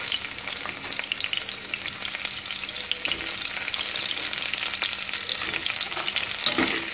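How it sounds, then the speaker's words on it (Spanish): Tomatoes fry with onion and garlic in oil in a dense, steady sizzle, with occasional stirring scrapes and a louder burst near the end, and no voices. "ahora voy a agregar lo que son mis jitomates"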